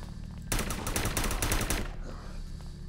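Rapid automatic gunfire from the video game The Last Stand: Union City, a loud burst lasting over a second, with a quieter ambient tail afterward.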